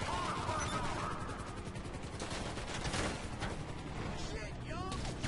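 Gunfire in GTA 5 Online crackles as dense, rapid bursts of shots amid a continuous clatter of game noise, fairly loud and steady throughout.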